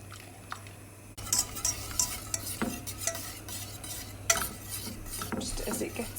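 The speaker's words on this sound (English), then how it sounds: "So bit by bit, and just keep stirring it in." Sauce for lasagne is stirred in a pan with a utensil, giving soft intermittent scraping and clinking strokes over a low steady background hum, close and fairly quiet.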